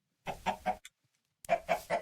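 Chickens in the Minecraft video game give two short bursts of clucking, each with three quick clucks and a gap of silence between them, clear and close with no other sound.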